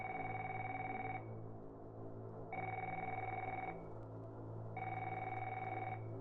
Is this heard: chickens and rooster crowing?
no